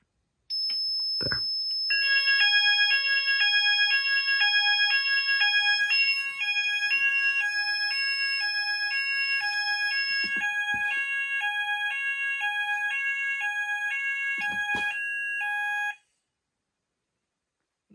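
A Morley IAS/Apollo fire alarm demo board sounds a full evacuation alarm: a loud, steady two-tone electronic warble repeating for about fourteen seconds, with a few sharp clicks and handling knocks before it cuts off abruptly.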